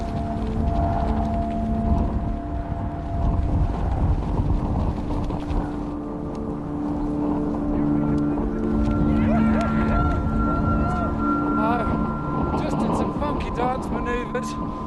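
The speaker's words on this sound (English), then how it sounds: "We're in one heck of a blizzard here." Blizzard wind in the Gobi desert roars and buffets the microphone in steady, rough gusts, loud and close, with someone talking over it at times.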